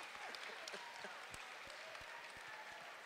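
An audience clapping steadily at a writers' talk, a dense wash of many hands sustained throughout, with occasional sharper individual claps standing out near the front.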